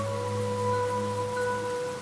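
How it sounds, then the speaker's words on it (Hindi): Heavy rain falls as a steady, dense hiss throughout, with sustained low musical drone tones running underneath and no voices. "तेज बारिश हो रही थी।"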